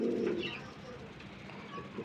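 White Baghdadi pigeons at a farm give a brief low coo at the start, then a soft hum of birds and room noise, fairly faint with no voices.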